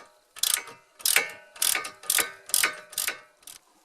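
A ratchet wrench tightens a brake caliper bolt on a Ford Mustang V during a front rotor and pad change, giving seven evenly spaced bursts of sharp clicking at close range in a quiet space.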